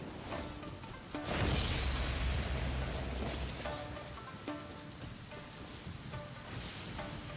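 Rain falling in the open-world game Genshin Impact, a loud surge of wet, hissing patter mixed with musical game tones that fades back after a few seconds.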